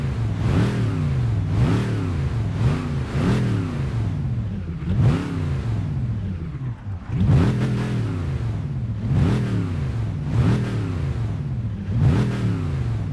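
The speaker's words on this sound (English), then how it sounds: "And now for the revving of the Camaro." A Chevrolet Camaro Z28 in Gran Turismo 5 revs repeatedly, each rise and fall of the loud V8-style engine note coming in regular bursts with no talking.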